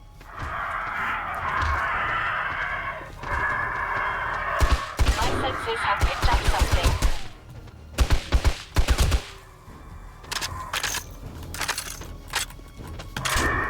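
Gunfire in the 7 Days To Die video game: rapid bursts of automatic fire and scattered single shots come in clusters over a background hum, with a voice talking in between.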